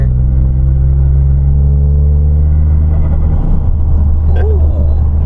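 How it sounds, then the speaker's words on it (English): A Toyota GR Corolla fitted with a K&N intake pulls hard under load, its loud, steady engine drone filling the cabin, with a brief stutter near the end as the throttle eases off. "let it boost up just a little bit, and then you just barely let off and it goes and the little turbo stutter"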